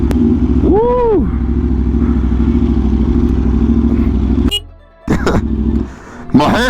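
A Kawasaki Ninja H2 or Aprilia RSV4 1100 sport bike, recorded up close, runs with a loud steady engine drone and a brief rising rev. The sound cuts out abruptly twice, with wind-buffeted clatter around the gaps.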